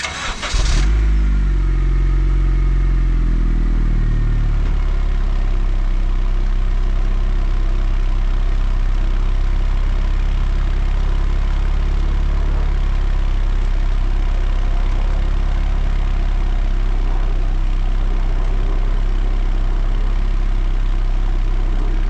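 A turbocharged R18 Honda Civic fitted with a Civic Si exhaust cranks over briefly and catches, then settles into a steady, close, fairly quiet idle with a low exhaust drone that holds throughout.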